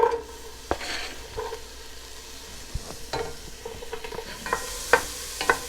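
Diced onion frying in oil in a pot for tortilla soup, a soft sizzle under irregular scrapes and clinks of a spoon stirring against the pot, close and without speech.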